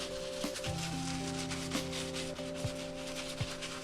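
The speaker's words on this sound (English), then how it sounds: "next you'll want to scrub all of the deep scuff marks and all of the places that have a lot of dirt" Shoes being scrubbed with a brush to lift deep scuff marks and dirt, a repeated rubbing swish in short strokes heard close, with soft musical tones underneath and no talking.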